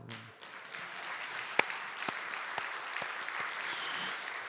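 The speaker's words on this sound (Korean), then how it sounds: "다시 한번 박수" Congregation applause during a Korean Sunday church service, a fairly faint, even wash of clapping heard from a distance with a few sharper individual claps standing out.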